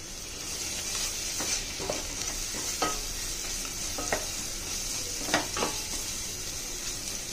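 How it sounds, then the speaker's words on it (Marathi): Onion fries with ginger-garlic paste and salt for veg pulao, a constant bright sizzle with scattered spatula scrapes and taps against the pan, near and steady. "आलं लसूणचा जो आपला वास असतो तो जाईपर्यंत आपल्याला कांदा परतायचा आहे"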